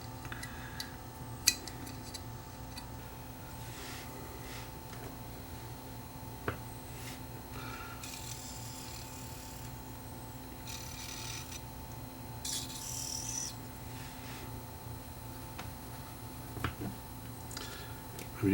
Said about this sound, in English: I'm using a screwdriver just to get the last little bits of remnants of that old gummed up belt out of here.